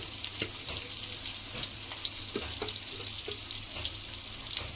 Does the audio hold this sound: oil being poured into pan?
yes